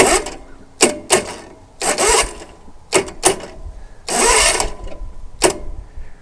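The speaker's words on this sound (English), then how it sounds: "Now, see, it tries to crank every now and then." A zero-turn mower that won't start tries to crank in short, uneven bursts of mechanical whirring, several brief attempts separated by pauses, close by and fairly loud.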